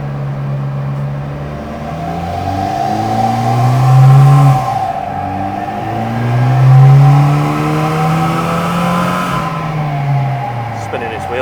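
A Ford Escort with a swapped Volkswagen engine revs hard on a dyno while its wheels spin, the engine note rising and falling in loud surging waves and roller whine carrying steadily underneath.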